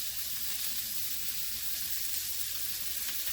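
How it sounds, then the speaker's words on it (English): Spicy pork sausages fry in a pan with a steady, dense sizzle and crackle, continuous and close, without voices. "we're just going to fry these up, and it should take a few minutes"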